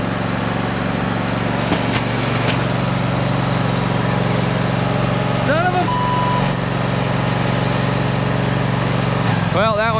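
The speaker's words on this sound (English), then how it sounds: "I went ahead and got our little tractor fired up" Small tractor engine idling in snow, a loud, steady, low mechanical drone running throughout, with brief higher whines and rising tones near the middle and end.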